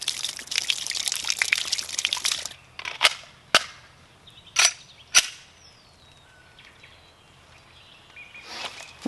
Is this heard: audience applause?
no